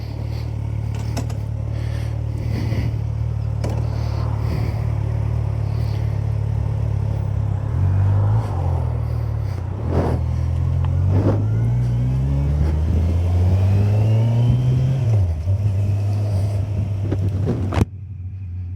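A motorcycle engine runs steadily close by, then revs up and down through several rising pitch sweeps as the bike rides off, a continuous loud rumble with no talking.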